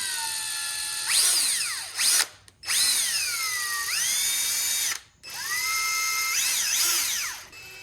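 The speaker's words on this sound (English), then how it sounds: "put this end in the drill" A power drill twisting wire whirs loudly in three long bursts, its pitch rising and falling as the motor speeds up and slows, with brief pauses between runs.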